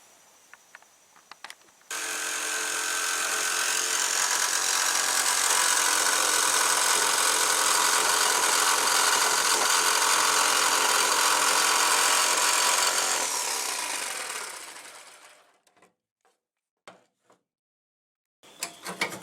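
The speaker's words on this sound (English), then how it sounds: "it up with the jigsaw. I just put a small metal cutting blade on it" A jigsaw fitted with a small metal-cutting blade saws through a Chevy Silverado OBS truck tailgate, a loud, continuous buzzing rasp lasting about thirteen seconds, then winding down into a few faint knocks and clatters.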